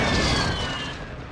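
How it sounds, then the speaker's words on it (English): Gunfire crackles in a video game battle royale match, a dense, loud burst of shots and booms that fades slightly over a second and a half. "I hear a bunch of gunfire right in front of you guys."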